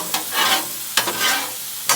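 Vegetables sizzling on a hot Blackstone griddle for beef lo mein, a close steady hiss broken by three sharp scraping stirs of a spatula.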